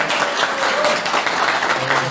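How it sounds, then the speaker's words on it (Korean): Small group at an online campaign office opening claps in encouragement, a brief steady patter of applause with a faint voice underneath. "우리도 격려의 박수 한번 부탁드립니다."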